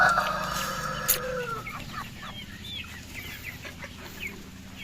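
Hens and a rooster on a small backyard flock clucking and calling repeatedly, close by, with a brief loud squawk early on and scattered bird chatter behind.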